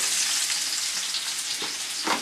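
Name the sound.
chopped onions frying in oil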